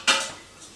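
A pressure pot handled in a home kitchen while preparing marinated beef, giving one sharp metallic clank followed by a fading ring and a faint later tap, close and alone.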